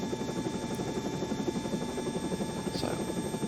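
Helicopter taking off during a flying lesson, a loud continuous rotor thrum and engine whine with a rhythmic beating pulse, heard from inside the cabin, with a voice talking over it.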